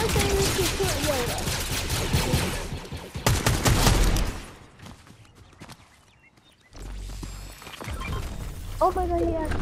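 Video game gunfire rattles in dense bursts of rapid shots, loud and close, with a quieter lull before the firing resumes, mixed with game effects and players talking over it.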